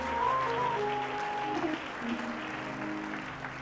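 A church congregation claps hands in a steady wash of applause throughout, with a sustained musical tone underneath.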